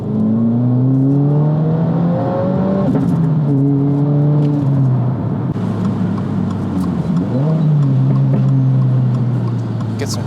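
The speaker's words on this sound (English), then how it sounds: "Get some pops and crackles back there in the exhaust, it's nice." 2022 Subaru WRX accelerating through gears while driving, engine note climbing and dropping with each shift, steady loud drone from inside the car; distinct exhaust pops and crackles are not clearly picked out.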